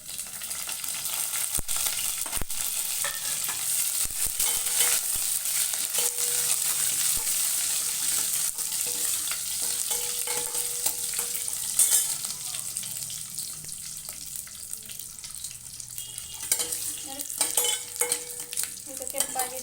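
Mustard seeds, curry leaves and dried red chillies frying in hot oil for a simple dal tempering, a steady crackling sizzle with occasional pops and stirring scrapes, close and continuous throughout.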